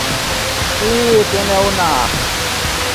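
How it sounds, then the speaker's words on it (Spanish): A large waterfall about 25 metres high roars as a steady, broad rushing wash that fills the whole clip, with someone talking over it. "una serie de cataratas. Esta es una de las tantas, la más grande, más o menos unos 25 metros"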